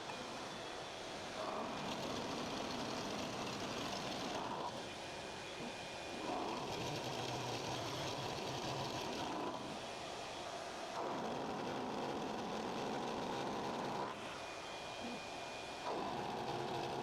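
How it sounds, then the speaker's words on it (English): A Schaublin milling machine drives a dovetail cutter through steel, producing a steady, fairly quiet machining whir that swells and eases in repeated passes with no voices. "hopefully the dovetail cutter will take out the last little bit there"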